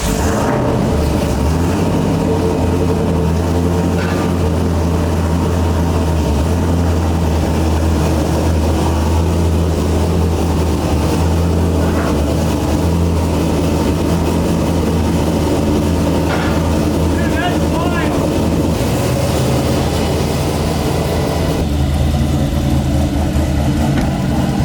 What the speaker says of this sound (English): let's go drive this thing, see how it feels